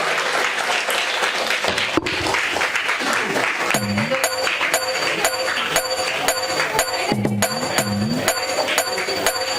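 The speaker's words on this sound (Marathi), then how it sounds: "टाळ्या वाजत राहिल्या पाहिजे।" Sustained audience applause fills a welcoming ceremony at a community gathering, a dense steady wash of clapping throughout, with music and sound-system tones joining partway through.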